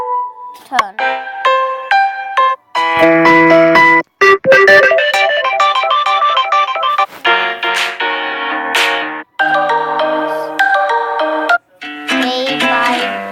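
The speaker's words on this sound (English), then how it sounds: "No, that's the hangout ringtone." Google Hangouts ringtone playing on a Samsung Galaxy S7, a bright synthesized melodic tune of chiming tones that runs steadily and loudly throughout, with brief gaps between phrases.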